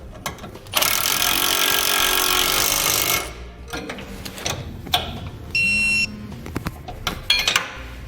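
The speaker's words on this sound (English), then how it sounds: "Now we'll tighten and torque that lower bolt that we didn't on the upper bracket previously." A bolt on the upper bracket of a Firestone Ride-Rite air helper spring install is tightened and torqued. A loud burst from a power tool runs for a couple of seconds, then comes close clicking and clanking of hand tools and metal.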